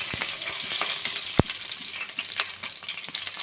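Two green chillies sizzle in two spoons of hot oil in a pan on the stove, a steady close crackle broken by a few sharp pops and light stirring scrapes, with no voices.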